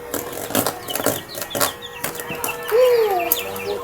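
A chicken being dosed with peppercorns clucks and squawks up close, with a burst of wing flapping and a rising squawk near the end, loud and busy.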